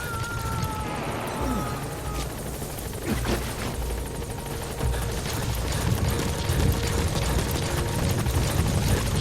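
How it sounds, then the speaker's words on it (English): Helicopter setting down at a landing zone in Metal Gear Solid V, a loud, close rotor roar with steady low thumping that builds slightly over the span, without any talk. "Helicopter has arrived."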